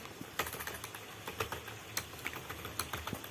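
Keys on a computer keyboard clack in quick, uneven bursts while text is entered into an HTML form field, close and moderately soft with steady rhythm.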